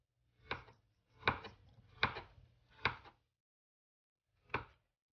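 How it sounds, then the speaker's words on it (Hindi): Knife chopping bananas on a cutting board for fruit chaat: five crisp, close thuds in an uneven rhythm, four in quick succession and a last one after a pause, with no talking. "कोशिश करें थोड़े से मोटे साइज में आप केले काटें"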